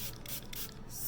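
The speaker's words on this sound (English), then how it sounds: "spray my Beauty Blender instead of taking it to the kitchen" A small squirt bottle of micellar water spritzes onto a Beauty Blender makeup sponge, a quiet close hiss of spray with soft rubbing, faint and brief with no talking.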